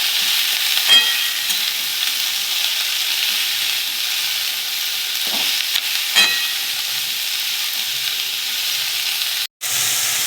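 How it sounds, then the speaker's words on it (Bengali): Chopped spring onion and potato fry in hot oil, giving a constant even sizzle with a few faint stirring scrapes and a brief drop to near silence close to the end, no talking. "দিয়ে পেঁয়াজ কলিটাকে ভালো করে ভেজে নেব।"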